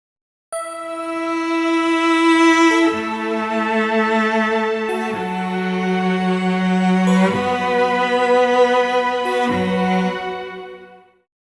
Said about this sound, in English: I'll just play the strings on the synth pad.